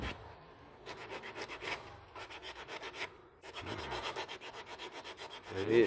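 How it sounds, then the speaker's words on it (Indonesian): Coarse dry sandpaper, around 100 grit, rubs across broken PP plastic in quick rhythmic back-and-forth strokes, close and scratchy, with a brief pause between bursts. "Kita pakai amplas kering aja, ukuran berapa ini nggak apa 100 atau berapa."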